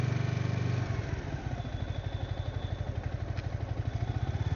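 A motorcycle moving steadily on the road with its throttle held by a cruise control throttle lock. The engine gives a close, even, pulsing drone throughout, no speech.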